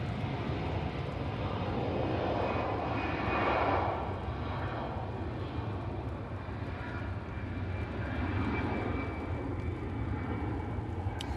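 An EasyJet Airbus A320 takes off at Manchester. Its engines make a steady, broad roar at middle distance that swells briefly and holds.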